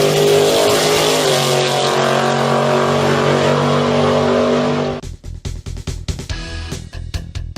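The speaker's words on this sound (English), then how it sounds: "We're going to drive our cars up and down the road" Classic cars cruise along a Route 66 street during a cruise event on 39th Street, with a loud engine roar passing close by before fading into choppy, intermittent motor and road noise.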